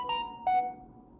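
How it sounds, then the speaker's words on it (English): A phone timer alert sounds two bright electronic beeps about half a second apart, then a fading tone in a quiet room with no talking. "I have a phone for the timer because I was timing myself earlier. I didn't know it was going to make noises."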